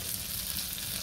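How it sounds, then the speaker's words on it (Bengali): Koi fish sizzles in hot oil in a pan, a brief steady close frying hiss with no voices. "কই মাছ ভাজা হয়ে গেছে"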